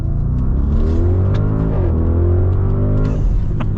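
A 2024 Mercedes AMG GLE 63 S V8 accelerating in dynamic mode, a loud close-up engine roar whose pitch climbs steadily through the gears, with a brief dip at a shift, no talking.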